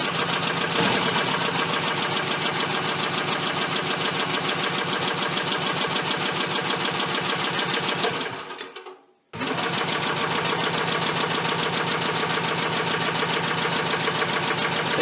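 An Onan 3.0AJ-1R generator engine runs roughly with a loud, rapid, close chugging. It cuts out briefly partway through, then picks straight back up and keeps running.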